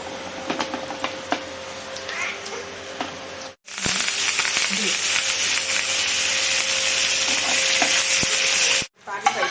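Crackling, busy sizzle of urad dal, mustard seeds, cumin, dried red chillies and asafoetida frying in hot oil, loud and close, with a brief pause before it continues steadily.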